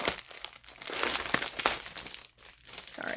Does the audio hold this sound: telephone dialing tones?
no